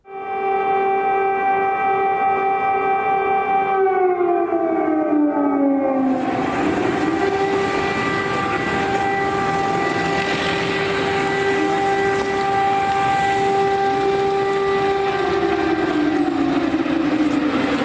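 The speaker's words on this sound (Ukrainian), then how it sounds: "На вулицях українських міст тривожну тишу шматують звуки сирен." Loud air raid sirens wail steadily in a Ukrainian city during wartime, the pitch sliding down and then holding, with a second siren tone joining partway through.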